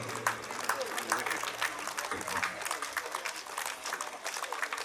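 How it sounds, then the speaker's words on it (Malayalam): An audience applauds at a residence association's cultural meeting with steady, dense clapping that runs throughout while voices carry over it. "നല്ലൊരു കൈയടി കൊടുക്കാം."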